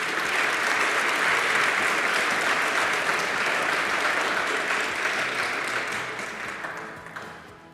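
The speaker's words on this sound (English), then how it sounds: "Let's give another big round of applause." A large audience at an education innovation awards ceremony gives a sustained round of applause. The dense, even clapping holds steady for several seconds, then fades toward the end.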